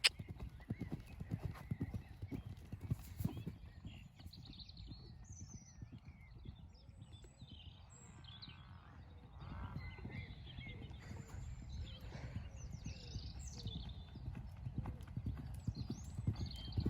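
Hooves of a horse ridden in a jumping lesson beat out a steady, rhythmic clip-clop on soft ground, moderately close, continuing throughout with faint birds in the background.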